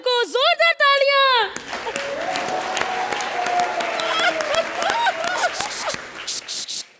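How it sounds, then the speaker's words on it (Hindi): Studio audience applause on a comedy show, continuous clapping and crowd noise following a brief sung or voiced passage, with music and voices mixed in throughout. "जोरदार तालियां।"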